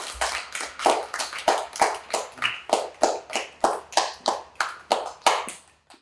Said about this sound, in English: My friends and I would like to give you a round of applause for that.